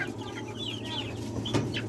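Chickens cluck softly in a poultry yard, with a few brief calls scattered over a steady low hum and a short louder bump near the end; no one speaks.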